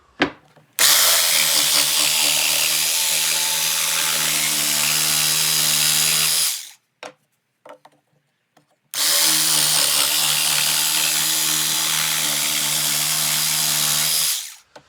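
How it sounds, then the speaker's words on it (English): A jigsaw whines steadily as it cuts a round edge in wood for cornhole boards in two long passes, loud and close, separated by a brief pause with small clunks. "we'll take our jigsaw and we will cut out the round edge"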